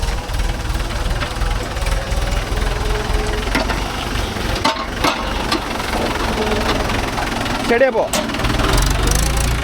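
A JCB 3DX backhoe and a Mahindra 415 DI tractor load soil, their diesel engines rumbling continuously with a deep, steady low-end drone. Voices talk over the engine noise.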